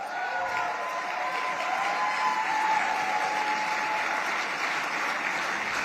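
Large crowd applauding, a loud sustained wash of clapping with cheering voices mixed in, steady and unbroken from start to finish.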